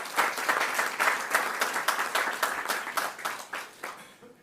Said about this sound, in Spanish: un aplauso para Julián por estar con nosotros.